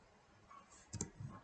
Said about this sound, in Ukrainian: Знову ж таки, клік.